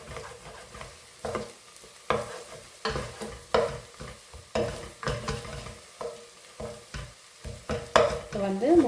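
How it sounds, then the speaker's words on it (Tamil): Eggs frying in butter are stirred in a pan: a soft sizzle under repeated scraping strokes of a utensil, rhythmic and close, roughly one stir every half second to second. "முட்டை வந்து பொரிஞ்சு கொண்டிருக்குது"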